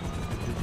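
Buzzard helicopter taking off in GTA 5 Online, a loud, close, continuous rotor and engine roar with a pulsing low thrum.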